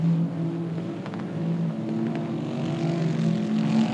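Race cars in a heat race at South Texas Speedway, a steady droning engine hum at a distance, with the pitch shifting slightly as the cars circle the track.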